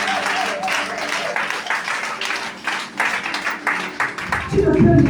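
A church congregation applauds during a French-language sermon, a dense wash of clapping that swells and fades across the clip, with a preacher's voice and amens mixed in, and a louder burst near the end.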